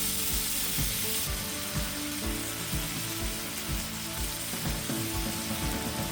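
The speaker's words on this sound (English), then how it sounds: "and then we'll add our pork belly." Pork belly sizzles in a pan with a constant dense crackle and spatter, close up and with no talking.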